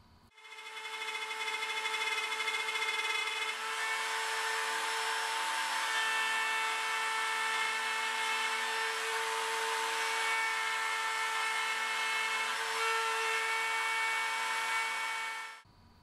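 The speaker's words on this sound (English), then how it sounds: "To install the lid supports, I start by routing out the mortises for each hinge." A router cuts hinge mortises into the wooden lid of an inlaid jewelry box with a loud, sustained high-pitched whine. It spools up and runs steadily for about fifteen seconds, then winds down, with no voices.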